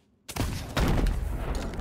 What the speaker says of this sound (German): Ich habe auf einen Schießpulverfass geschossen.